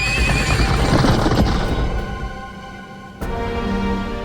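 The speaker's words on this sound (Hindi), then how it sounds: "महाराज, घोड़े तैयार हैं।" Horses whinny loudly, with hooves clip-clopping beneath; a second neigh breaks in after a brief drop, with no talking.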